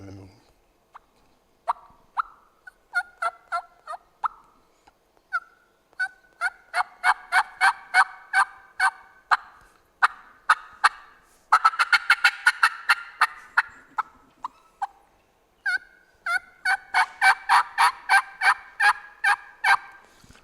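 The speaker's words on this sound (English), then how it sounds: "That was just the tree call stuff early in the morning." Wild turkey tree calls: soft clucks and yelps in rhythmic runs, repeated in bursts with short pauses, moderately close and alone in quiet morning air.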